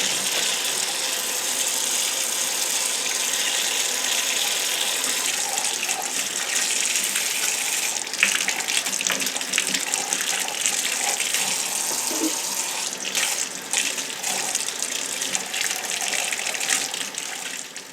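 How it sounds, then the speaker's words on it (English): Tap water runs steadily into a sink while turnip greens and kale are washed, a continuous close gush with faint splashes and handling noises over it. "what I'm going to do is give all this a nice wash"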